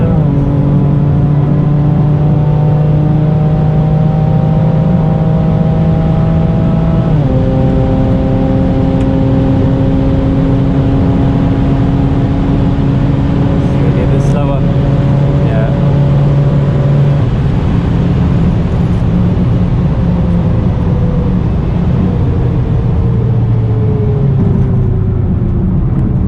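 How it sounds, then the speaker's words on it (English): A Mosselman hybrid turbo BMW F80 M3 engine at full throttle, loud and continuous from inside the car, climbing in pitch through the gears with abrupt shift drops and bouncing against the rev limiter. "Hit the rev limiter."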